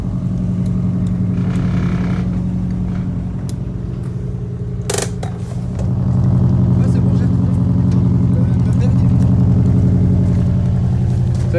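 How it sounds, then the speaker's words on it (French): A Subaru engine runs nearby with a steady low rumble. The note rises and holds louder after a short sharp burst midway. "Petite Subaru qui fait plaisir."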